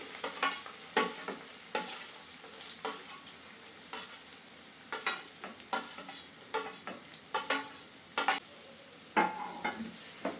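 Onions frying in a pan for Andhra-style small prawn fry, with a soft continuous sizzle broken by frequent scraping stirs of a spatula, close and fairly quiet, with no talking.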